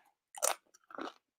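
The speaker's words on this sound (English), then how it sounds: "hear that crunch?" Two crisp crunchy bites into a baked veggie egg roll with crispy edges, close and clear, each crackling snap separated by a brief pause in an otherwise quiet setting.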